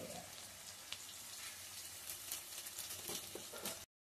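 Onions fry in a pan with a pinch of salt, giving a steady, fairly loud sizzle with scattered crackles and pops that runs throughout, no voices.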